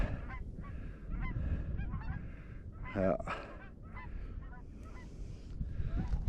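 A flock of geese honking repeatedly in a flyover at Rocky Mountain Arsenal, Colorado, several overlapping calls with a brief louder burst midway, over steady wind and outdoor rumble.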